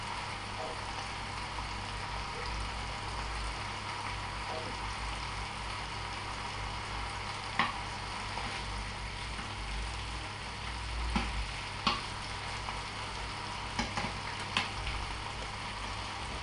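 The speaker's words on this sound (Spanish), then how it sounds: "Solo vamos a refreírla para que coja un poco de color" Chicken sausage fries in a pan with a faint, steady sizzle, joined now and then by small pops and crackles.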